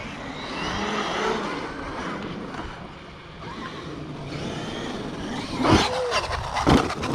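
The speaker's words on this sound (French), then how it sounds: "c'est les roues qui touchent le garde-boue" A car's wheels rubbing against the mudguard, a rough grinding scrape under engine noise, rising to a couple of sharper scraping bursts near the end; no speech.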